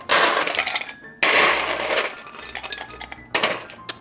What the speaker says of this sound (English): I'm gonna add some ice.